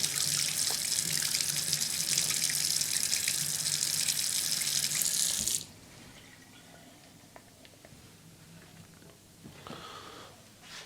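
A kitchen tap runs water hard for about five seconds, then shuts off, leaving quieter handling noises and a few faint drips.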